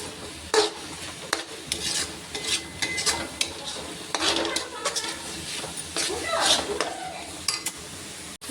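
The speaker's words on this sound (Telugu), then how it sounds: "ఈ ఆనియన్ పచ్చిదనం పోయినంత వరకు వేయించుకుందాం." Onions frying in a pan for chicken fry, a soft sizzle under repeated scraping and clinking of a spatula against the pan, stirred in irregular bursts at close range.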